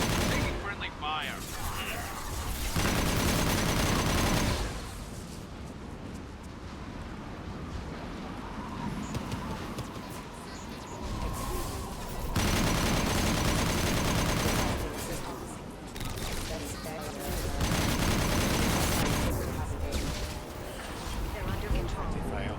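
Sustained bursts of gunfire and explosions in Mass Effect Legendary Edition 2, loud and dense, coming in waves separated by quieter stretches with a voice talking over the combat.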